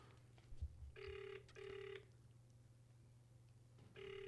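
A telephone rings in two quick double-ring bursts, a pause, then another burst, with a low steady hum underneath and a faint thump early on.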